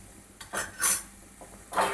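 A utensil stirring ridge gourd pieces in a pan, with a few scraping, clinking strokes in short separate bursts, close and fairly quiet.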